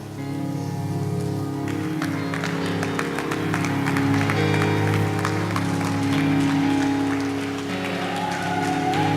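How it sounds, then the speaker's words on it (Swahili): A church congregation claps for the Lord over sustained music with a steady beat, the clapping fairly loud and rhythmic throughout, accompanied by a voice. "Clap for the Lord"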